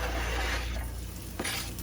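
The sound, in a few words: onions sizzling in oil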